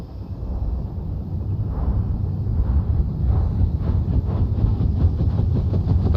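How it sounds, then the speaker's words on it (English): Helicopter engine starting up in the Vietnam war shooter Hell Let Loose: Vietnam, a loud deep rumble that builds steadily into a rhythmic rotor chop over several seconds, with no talking. "Let's start by getting in the pilot seat and turning the engine on."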